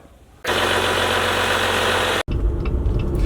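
A Jeep Gladiator Rubicon diesel engine runs loud and close with a steady, dense rumble after starting abruptly, then cuts out for an instant before a quieter, rougher running sound continues.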